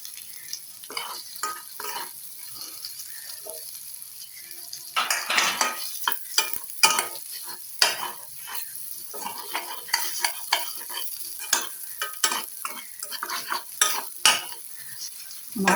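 Boiled potatoes are sautéed with spices in a pan for a fish egg curry, with a soft continuous sizzle under repeated scraping and clinking of a spoon stirring against the pan, close by and fairly quiet.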